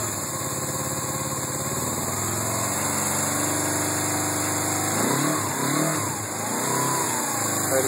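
A 1980 Suzuki GS450 S motorcycle engine idling after a cold start, a steady close putter with a throttle blip and wavering revs partway through.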